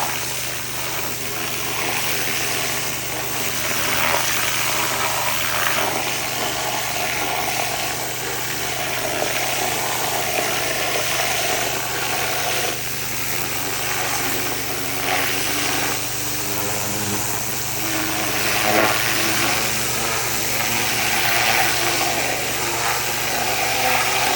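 Hydrotiller engine running at full speed, a steady loud mechanical drone with a constant hum, close by and continuous throughout without talk.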